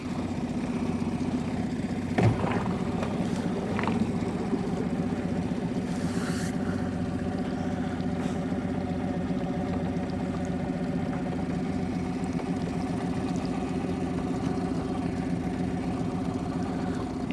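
Outboard motor on an Aluma Craft boat runs at a low, even idle on the water, a steady close drone holding throughout with a couple of faint knocks and no talking.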